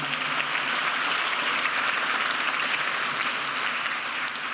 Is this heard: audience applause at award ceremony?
yes